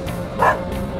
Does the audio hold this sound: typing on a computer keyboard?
no